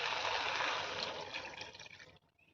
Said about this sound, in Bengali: এবারে আমি দুধটা ঢেলে দিচ্ছি।